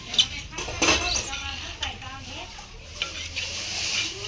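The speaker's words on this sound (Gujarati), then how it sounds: "મીઠું નાખી હલાય થોડું નીચે હલાય" Puffed rice being stirred with salt in a hot pan, giving a continuous dry rustling and scraping with sizzle and occasional utensil knocks, and a voice speaking faintly in the background.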